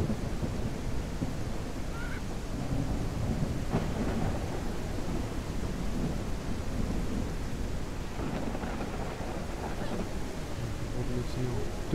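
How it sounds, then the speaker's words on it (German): A thunderstorm with steady, dense rain. Thunder rumbles low and continuously, with a few sharper cracks along the way, and a voice is faintly audible at times. "Das Gewitter."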